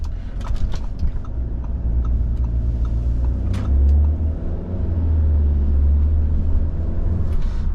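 A car on Continental winter tires drives over snow, heard from inside as a steady low road rumble with tire noise that swells midway, plus scattered light clicks and knocks.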